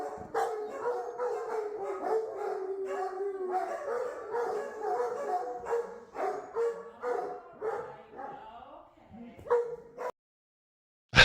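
Dogs howl together in a long, wavering chorus, rising and falling, loud and close, before cutting off abruptly near the end.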